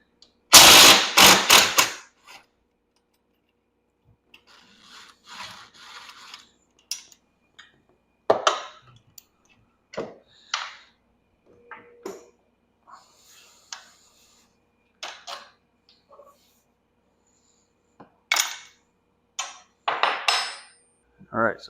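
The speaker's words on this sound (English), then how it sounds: "I'm going to start by pulling these 2 top bolts right here." Top bolts being removed from an old EZGO golf cart with a power impact tool, loud rattling bursts at the start followed by scattered metallic clanks and short rattles with long quiet gaps.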